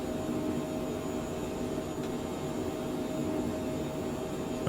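A Phenom 100 jet taking off in Microsoft Flight Simulator 2020, a steady broadband engine roar with a faint whine, even and continuous in the cockpit.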